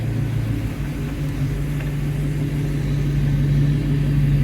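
A 1987 Chevrolet Blazer engine idles at a raised speed in diagnostic mode while the steering wheel is turned, giving a steady, loud, close low hum with a constant tone and no talking.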